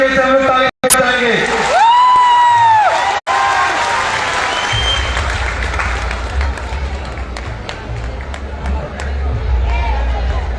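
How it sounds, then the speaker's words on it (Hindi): Rally crowd in Jamshedpur's Regal Maidan breaking into sustained applause, dense clapping and cheering from a large gathering in an open ground, continuing steadily after a short burst of amplified speech and feedback. "इनके लिए एक बार जोरदार तरीके से हम लोग ताली बजाएंगे।"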